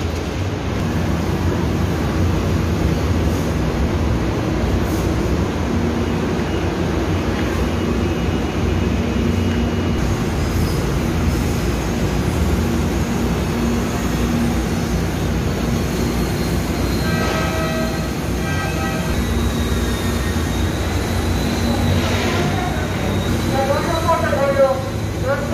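A passenger train pulls into a city rail station platform with a steady loud rumble and rolling wheel noise, and squealing brakes rise near the end; a voice is audible over the clatter.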